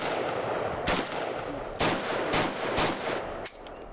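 Kalashnikov rifle shots fired at a 25-yard range crack out as five loud, sharp reports spaced unevenly over a few seconds above steady background noise.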